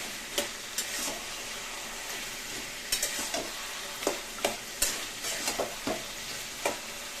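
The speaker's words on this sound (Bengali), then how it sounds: "এখন নাড়তে থাকবো, পুরো জল শুকিয়ে যাবে তখন নামাবো।" Kochu shak greens with chopped hilsa heads are stirred in a pan over a low simmering sizzle. Sharp scraping knocks of the utensil come in an irregular rhythm, about a dozen times, with no talking.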